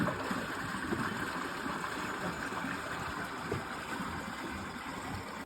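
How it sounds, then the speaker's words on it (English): Water runs steadily through a trough beneath a hiking path on the trail up Mount Olympus, a soft continuous flowing rush heard close and alone with no talk. "You're literally walking on top of a small river and you can hear"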